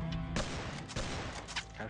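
Gunfire rattles in the horror game Wall of Insanity as several sharp shots fire in quick succession, fairly faint and somewhat muffled.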